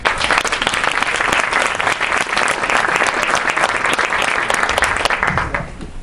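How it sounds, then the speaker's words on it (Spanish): An audience at a conference on women in the mountains applauds a yoga teacher as she is introduced, sustained full clapping from a seated crowd that fades out near the end. "Así que un aplauso para ella"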